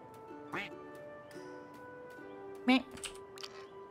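A duck quacks in a survival crafting video game set in dungeons, a short sharp quack over a steady game music bed with faint clicking, a couple of brief calls spread across the moment.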